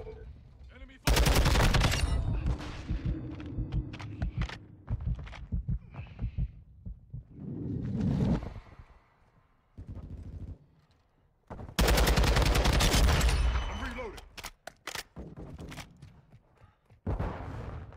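Gunfire in the video game Modern Warfare II, two loud sustained automatic bursts plus scattered single shots and impacts, close and dominant, with brief game voice callouts between.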